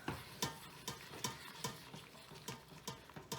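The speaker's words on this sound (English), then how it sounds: "I am just stirring it till the butter melts and the noodles, everything gets coated." Butter melting into cooked noodles for mac and cheese while a utensil stirs the pot, giving regular scraping knocks roughly twice a second over a soft sizzle.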